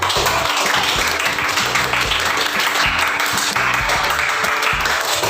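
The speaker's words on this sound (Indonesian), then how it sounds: "Mari kita berikan tepuk tangan." A classroom of students claps steadily, dense applause continuing at an even level throughout.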